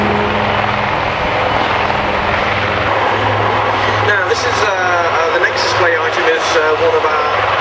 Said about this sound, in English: you're going to see some beautifully painted, and I mean beautifully painted, helicopters that are getting airborne, and they're from the Indian Air Force